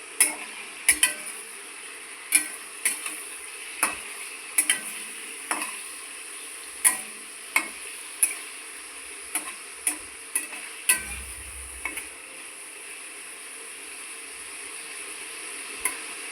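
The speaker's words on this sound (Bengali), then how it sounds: "চিংড়ি মাছগুলো ভাজা হচ্ছে।" Prawns fry in oil in a wok for prawn pulao, a soft sizzle under repeated sharp ticks and clacks of stirring at an even, close rhythm.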